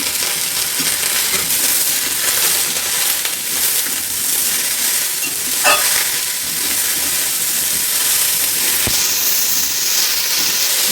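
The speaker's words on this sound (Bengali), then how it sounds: "এগুলো দিয়ে আমি আরেকটু ভালোভাবে নেড়ে নেব।" Daliya khichdi ingredients, including chopped onion, are stirred in a pan over steady frying sizzle and hiss, with faint scraping strokes near the middle and no talk.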